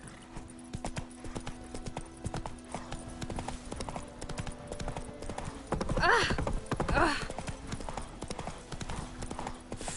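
Hooves of the horse in The Witcher 3 clip-clop in a steady rhythm, with a brief snort or whinny midway over a constant game ambience. A voice speaks over it.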